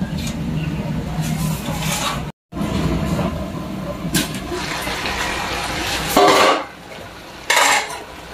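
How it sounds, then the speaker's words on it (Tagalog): Shrimp are dropped into a pot of creamy jackfruit cooking in coconut milk, then a lid goes on, giving clattering metal clinks and a couple of sharp lid knocks over a steady kitchen background. "Lagay na natin yung sugpo. Then, takpan natin ulit."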